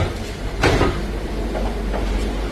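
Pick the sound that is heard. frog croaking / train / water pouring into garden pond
train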